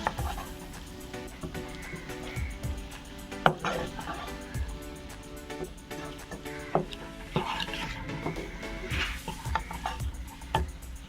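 A spoon stirs and mixes tomato rice in a pan, making quiet irregular scrapes and light taps against the metal, with a voice faintly present in the background.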